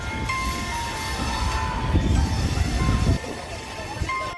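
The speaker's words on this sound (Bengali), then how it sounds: "শিলিগুড়ি জংশন থেকে প্রস্থানের পথে আলিপুরদুয়ারগামী কাঞ্চনকন্যা এক্সপ্রেস" The Kanchankanya Express rumbles out of Siliguri Junction, a loud low rolling roar of wheels and carriages with a faint steady whine above, swelling midway and then easing slightly.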